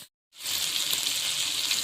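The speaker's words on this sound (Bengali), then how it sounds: "টমাটো কুচি, হলুদ দেবো পরিমাণ মতন দিয়ে এখন আমি কষিয়ে দিচ্ছি" Tomato, green chilli and turmeric sautéing in a pan: after a brief silence, a loud, steady, hissing sizzle starts and keeps going without a break.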